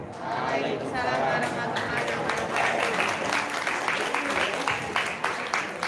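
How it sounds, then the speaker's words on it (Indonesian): An audience at a storytelling event claps steadily throughout, dense and continuous, with voices chattering underneath. "give applause from Gibran"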